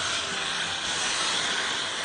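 Cognac is poured onto hot caramelized sugar in a pan, giving a loud, steady, broadband sizzling hiss that lasts unbroken throughout, close and without speech.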